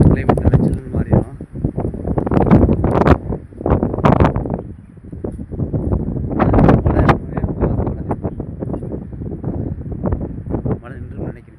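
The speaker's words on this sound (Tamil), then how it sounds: "மழை நின்று நினைக்கிறேன், காற்று பயங்கரமாக அடிக்குது." Strong wind gusts roaring across an outdoor spot just after rain, loud and continuous with buffeting bursts on the microphone, while a person talks over it throughout.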